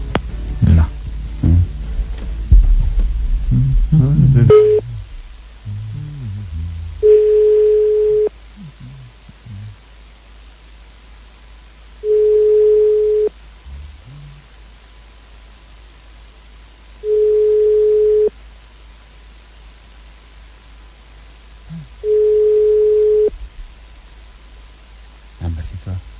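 A phone call's ringback tone repeats four times, each steady ring lasting about a second with roughly five-second gaps, and the call goes unanswered; people talk briefly at the start before the rings.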